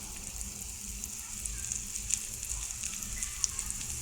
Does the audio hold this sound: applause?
no